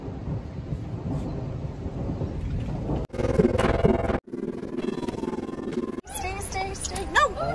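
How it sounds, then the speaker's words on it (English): Thunder outside, heard during a rainy storm: deep rumbling that comes in several loud surges separated by abrupt breaks, filling the whole stretch with no clear speech. "Thunder started outside."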